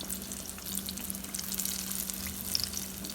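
Sweet dough treats deep frying in a deep fryer of hot oil give a continuous close crackling sizzle with bursts of fine popping, steady throughout under a low hum.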